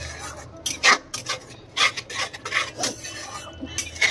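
Ground spice paste for a chicken dish being fried and stirred in a pan on a gas stove: irregular scraping and rasping strokes of a utensil against the pan, in short close bursts with quiet gaps, no talk.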